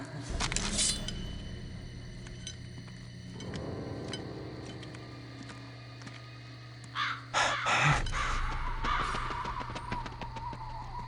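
A bird caws in the video game Vampire: The Masquerade – Redemption, a few harsh calls rising above a low droning game ambience, followed by clinks and other effects.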